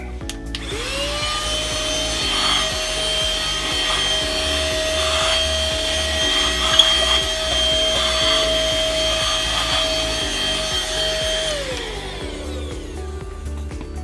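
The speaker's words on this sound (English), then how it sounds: "the vacuum cleaner." A vacuum cleaner motor whines up to a steady, loud drone, runs for about eleven seconds with scraping and knocks underneath, then spins down.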